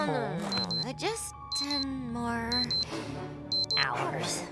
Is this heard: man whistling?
no